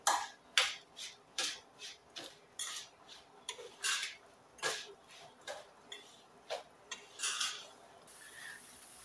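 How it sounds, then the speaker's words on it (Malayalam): Rice flour and grated coconut are stirred together in a bowl with a spoon, making a quiet, irregular series of clinks and scrapes that keep going throughout with no talking. "ഇനി ഒരു 1/4 കപ്പ് തേങ്ങയും കൂടെ ഇതിലേക്ക് ഇട്ട് കൊടുക്കുക. നമുക്കെല്ലാം കൂടെ നന്നായി ഒന്ന് മിക്സ് ചെയ്ത് വെക്കാം."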